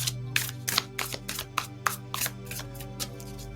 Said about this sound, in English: You're such a great card shuffler.